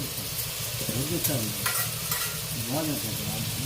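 Chicken pieces tipped into a pan of well-fried grated onion for a chicken sherwa, giving a steady close sizzle with spoon stirring and scraping throughout.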